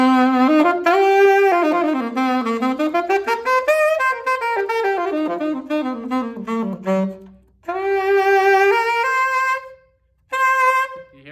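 A saxophone plays a flowing melodic line with vibrato, its notes sliding up and down, then holds a couple of longer sustained tones after short pauses. The playing is close and clear, with no talking.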